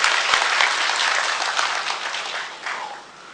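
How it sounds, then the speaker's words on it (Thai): Short burst of audience applause at a Thai labor policy lecture, many people clapping steadily before fading out at the close. "ให้พวกเราปรบมือชมเชยให้คณะผู้จัดทำวิดีโอทัศน์ครับ"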